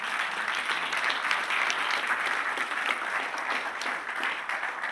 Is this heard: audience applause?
yes